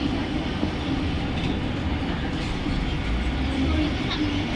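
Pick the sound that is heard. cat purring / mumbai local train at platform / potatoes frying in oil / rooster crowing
mumbai local train at platform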